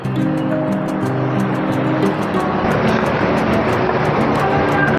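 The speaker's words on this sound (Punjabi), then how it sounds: "ਸਾਹਮਣੇ ਚੱਲ ਰਿਹਾ ਝਰਨਾ ਬਹੁਤ ਸੋਹਣਾ ਦ੍ਰਿਸ਼ ਹੈ ਸਵੇਰ ਦਾ ਖੂਬਸੂਰਤ ਵਾਟਰਫਾਲ" A mountain waterfall near Gobind Dham on the route to Hemkund Sahib, Uttarakhand, pours in the morning with a loud, steady, unbroken roar that stays close and constant throughout.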